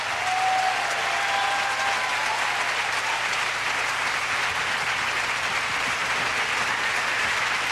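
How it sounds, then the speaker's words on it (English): Loud, dense theater applause with cheering from the audience at the Vivian Beaumont Theater as the full ensemble takes its bows at a 1998 Lincoln Center live performance of Twelfth Night, sustained and even throughout. "Our entire ensemble on stage receiving the applause and the cheers of our audience here at the Vivian Beaumont Theater."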